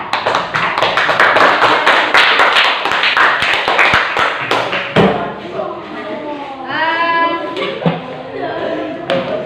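A classroom of students claps dense, loud and close for a presenting group, then the applause fades and voices and talk take over for the second half.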